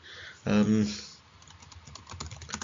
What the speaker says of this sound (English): I'm just going through and typing in countries I've already got.